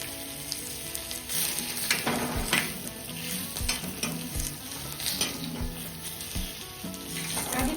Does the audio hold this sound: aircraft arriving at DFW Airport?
no